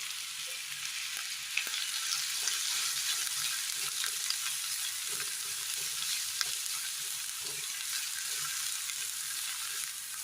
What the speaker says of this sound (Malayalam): എണ്ണയിലേക്ക് സബോള ഇട്ട് കൊടുക്കാം, ബീൻസ്, ക്യാരറ്റ്